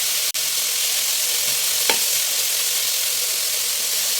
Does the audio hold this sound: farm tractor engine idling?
no